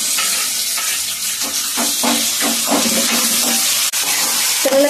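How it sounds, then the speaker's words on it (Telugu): Tomatoes drop into onions already frying in a pan for a South Indian badam pappu upma, giving a steady close sizzle with soft scraping stir strokes throughout, and no talking. "అలాగే టమాటా వేసుకుందాం."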